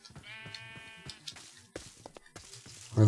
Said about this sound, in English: There's a sheep out here.